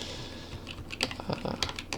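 Computer keyboard keys clack in a quick irregular burst, close and moderately loud, over a soft steady hum, as an undo shortcut is pressed.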